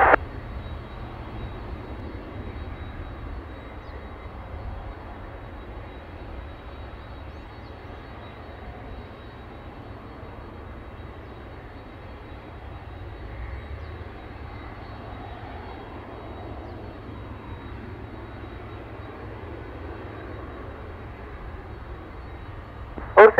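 An airplane in a landing and take-off sequence gives a steady, even engine drone heard from inside the cabin. It holds at a constant moderate level throughout, with no talking.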